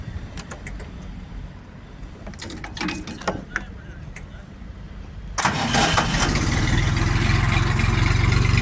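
A Jinma 244 tractor engine cranks and catches after a few seconds of clicks and quiet handling, then settles into a loud, steady diesel rumble close by.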